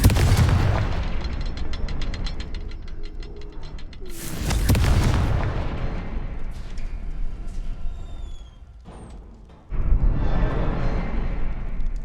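Confringo blasting spell explosions in the Hogwarts Legacy video game: a series of loud, booming blasts with bright crackling bursts, a sharp rushing explosion near the middle, a brief quieter lull, then another heavy detonation.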